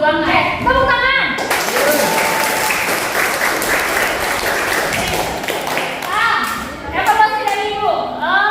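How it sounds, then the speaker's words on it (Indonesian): A high school sociology class in Indonesia claps together after a song, loud, close and dense, bursting in after talk and fading back into voices near the end. "Tepuk tangan."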